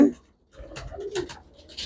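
Pigeons for sale coo softly in short low bursts after a brief thump, close by, with faint background noise.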